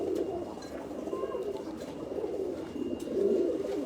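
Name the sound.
pigeons cooing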